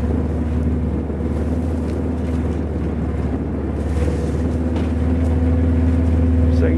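Steady engine drone with wind and rumble while riding uphill in a Jeep-like off-road vehicle near a Washington State wildfire, a loud continuous roar close to the microphone with no talk.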